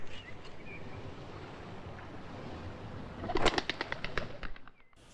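A released pigeon or dove gives a soft coo over a faint background hum, then a short burst of flapping wings rises, and the sound drops away abruptly.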